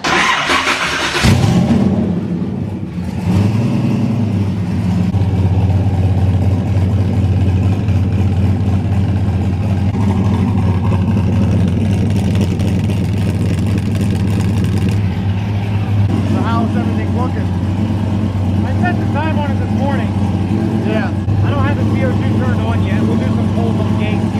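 A big-turbo Camaro on a dyno cranks and fires, then settles into a loud, steady, rumbling idle that continues for the rest of the stretch, with people talking over it.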